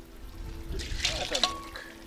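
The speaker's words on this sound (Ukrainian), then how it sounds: "Вимиваємо залишки цього пшона, що лишили в місці, і виливаємо." Rinse water with leftover millet is poured out of a cooking pot outdoors, a short, quiet splash and trickle lasting about a second.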